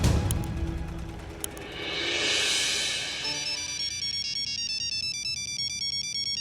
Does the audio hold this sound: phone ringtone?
yes